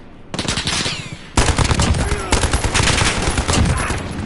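Call of Duty gunfire, rapid and loud, in sustained automatic bursts with a short pause before a second longer stream of shots.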